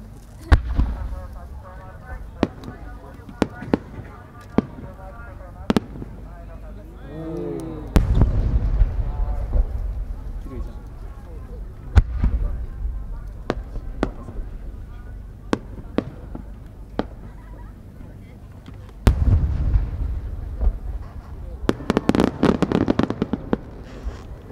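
Fireworks at the 2018 Omagari fireworks competition in Japan pop and crack in irregular sharp bursts, with deeper booms swelling twice and a rapid crackling volley near the end.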